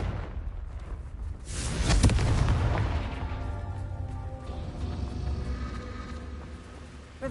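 A Confringo blasting spell erupts in Hogwarts Legacy, a loud booming explosion that peaks early and trails into a long rumbling, crackling tail, with no talk over it.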